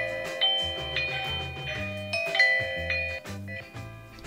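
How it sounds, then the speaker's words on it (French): A Eufy doorbell camera plays a melodic chime, a bright sequence of ringing notes in a steady rhythm, close and clear with no voices. "On peut également choisir le son de son carillon."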